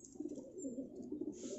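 Soft, low cooing from a young, badly injured pigeon, a continuous murmur at close range with no speech.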